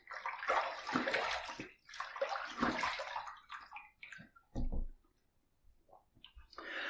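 Water runs and splashes in bursts as a Wilkinson Sword Classic safety razor is rinsed after a shave, with a few sharp clicks and knocks against a basin and brief quiet gaps between the washes.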